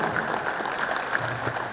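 An audience at a felicitation gathering claps steadily, a dense, even patter of many hands filling the room.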